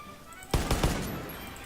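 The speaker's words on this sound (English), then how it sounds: "Grenade launcher." Grenade launcher firing in the Far Cry 5 arcade mode, a few sharp, punchy thumps in quick succession followed by a pause and one more blast, fairly close over quiet background.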